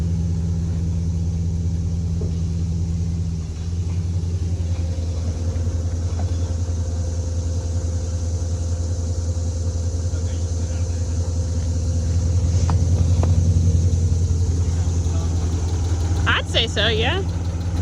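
Rebuilt Hemi V8 in a Dodge Durango idling steadily with a low rumble and a persistent ticking, heard close up for the whole stretch while a person briefly speaks.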